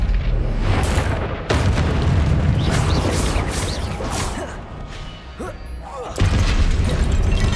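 Confringo blasting spells in Hogwarts Legacy, repeated loud booming explosions with crackling debris and whooshes, one blast after another over game sounds, a voice calling out over the action.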